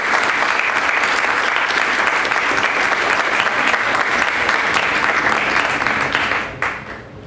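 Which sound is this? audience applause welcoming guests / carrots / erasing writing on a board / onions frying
audience applause welcoming guests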